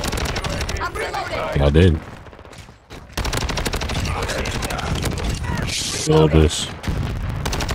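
Rapid gunfire and grenade launcher shots in Call of Duty Modern Warfare II, dense continuous shooting with two heavy bursts and a brief lull, loud and close under a player talking.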